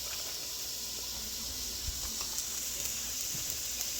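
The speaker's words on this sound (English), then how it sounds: "we're going to start cooking by sauteing onions for both pots" Steady, close sizzling and crackling of onions and celery sautéing in hot oil in a pan, with a few soft clinks and stirring sounds over it.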